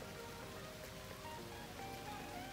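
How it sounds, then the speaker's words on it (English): Steady, moderate rain falls on a cloudy day in Zanzibar, a continuous even hiss of drops with no voices. "Currently, it's raining."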